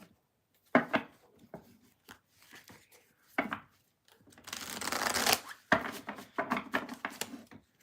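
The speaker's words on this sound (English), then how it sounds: "I'm going to shuffle and then move on to" Tarot cards being shuffled up close: a few crisp flicks and taps, then a longer riffling burst, followed by more shuffling clatter.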